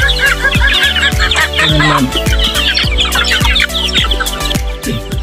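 Several chickens and chicks cluck and chatter close by in a busy, steady flurry, with higher chirps mixed into the low clucking.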